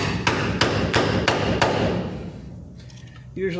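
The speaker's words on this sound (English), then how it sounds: "Hammer." Five sharp hammer blows ring out in a steady rhythm, close and loud, while using a spring bushing puller tool, then the sound tapers into quieter handling noise.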